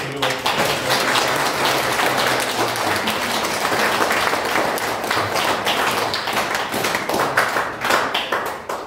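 Applause for Liliana at her baptism in a church, a full, dense round of many hands clapping that stays loud and steady throughout, with a brief voice under it at the start.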